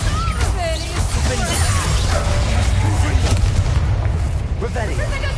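A Bombarda spell explodes in Hogwarts Legacy with heavy, rumbling booms and crashes that fill the whole stretch, loud and dense, while voices talk over the battle din.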